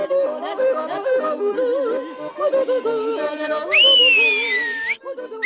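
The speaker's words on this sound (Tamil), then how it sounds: "உனக்கு நான் விசில் அடிக்க கத்து தரேன்." Cartoon whistling from an animated series set in a mountain village, a melodic run of wavering tones followed by a bright rising and falling slide whistle near the end, close and clear with no speech.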